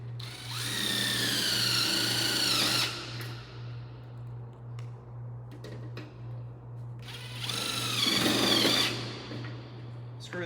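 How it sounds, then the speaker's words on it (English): A power driver runs two bursts, about two seconds each, sinking pan head screws through metal track into studs for an interior box header, with a steady hum and light clatter in between. "Screw the track to those studs."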